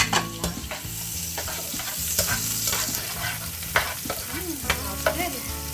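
Onions frying in a pan for sweet and sour pork, a close steady sizzle with repeated scraping stirs and utensil knocks against the pan, no talking.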